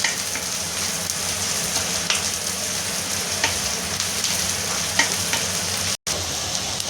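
Garlic fries in oil in a pan while making Andhra gongura pickle, giving a steady close sizzle with occasional stirring scrapes, broken by a very brief cut near the end.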